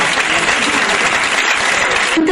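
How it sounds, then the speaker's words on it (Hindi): Dense, loud applause fills the hall at a Hindi kavi sammelan poetry gathering, a steady roar of many hands clapping throughout with no pause. "उनका सम्मान करें एक बार आप भी तालियों के साथ"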